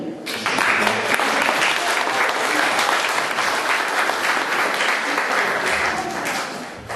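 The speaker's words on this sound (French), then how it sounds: "Vous pouvez l'applaudir" A seated audience at a French presentation with a doctor bursts into applause that swells quickly and holds strong for several seconds before easing off near the end.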